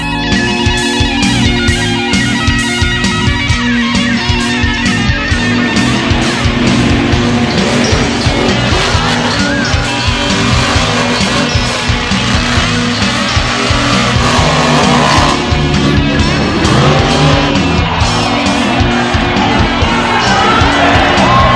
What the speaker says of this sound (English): Few things compare to the ear-splitting roar of massive horsepower indoors